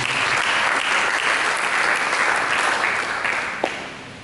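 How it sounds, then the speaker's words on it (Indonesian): Congregation in a church breaks into applause, a full, even burst of many hands clapping close and loud, fading slightly toward the end with one sharp knock. "Mari kita berikan tepuk tangan bagi Yesus."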